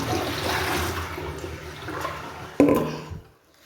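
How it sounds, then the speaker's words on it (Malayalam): Water being poured off settled tapioca (cassava) starch during washing: a steady rushing pour that swells into a brief louder splash near the end, then cuts off into quiet. "ഈ വെള്ളം നമുക്ക് വീണ്ടും ഊറ്റിക്കളയാം"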